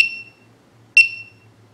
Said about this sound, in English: That alarm is 90 decibels.